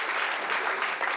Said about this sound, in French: Applaudissements pour vous-même, cher public.